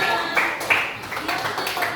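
Students in a ninth-grade middle school classroom clap in a few short bursts, with a teacher's voice and room chatter underneath.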